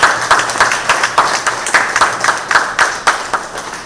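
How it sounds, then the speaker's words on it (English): Steady applause from an audience at a civic event honouring a man, close and fairly loud, with individual claps pulsing in a rough rhythm throughout. "I think we deserve to give Mr. Duarte Philip a lusty round of applause"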